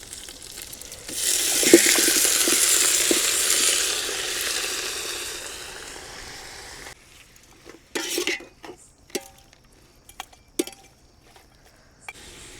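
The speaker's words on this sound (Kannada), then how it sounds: "ಅರಿಶಿನ ಪುಡಿ, ಕಲ್ಲುಪ್ಪು, 1-2 ನಿಮಿಷ ಈ ರೀತಿ ಫ್ರೈ ಮಾಡ್ಕೊಳ್ಳೋಣ." Washed mutton frying in a pot with turmeric powder and rock salt for village-style Hosakote dam biryani: a loud, steady sizzle for about six seconds, then scattered clinks and scrapes of a utensil against the pot.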